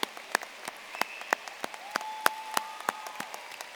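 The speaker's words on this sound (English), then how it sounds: "Let's give them one more round of applause as they return to their class." A high school graduation audience gives a thinning round of applause, with scattered claps at irregular spacing and a brief whistle-like tone drifting through. The applause is fairly quiet and dies down to a sparse patter.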